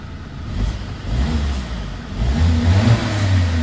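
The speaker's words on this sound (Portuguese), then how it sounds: "barulho de turbo." A 2024 Audi Q3 with a turbocharged engine revs hard, a loud, steady mid-pitched drone that climbs in intensity for a few seconds with no voices over it.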